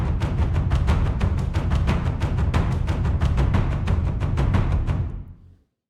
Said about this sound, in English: without this processing here, the taikos sound like this.